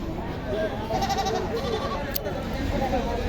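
Goats bleat repeatedly at a busy Friday goat market in Kirtipur, Naogaon, their calls rising over the steady murmur of crowd chatter and people talking nearby.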